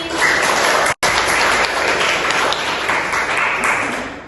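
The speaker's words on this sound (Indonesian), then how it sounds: "Tepuk tangan untuk narasumber kita hari ini." A podcast studio audience applauds its guests, a dense, steady wash of clapping that fills the whole stretch at a loud, even level, broken only by a brief dropout near the one-second mark.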